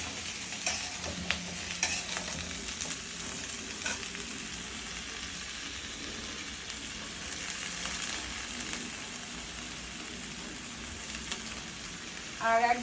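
Finely chopped garlic sizzles in hot butter in a pan, a steady low frying hiss with occasional stirring scrapes, moderately close and unbroken by speech.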